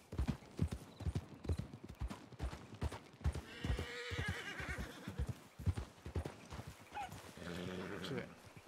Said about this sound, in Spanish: ¿Ese no es su caballo?